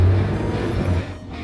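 A small local off-road car drives near Baku in Azerbaijan, heard from inside as a loud, close, low engine rumble that fades slightly near the end of the brief stretch.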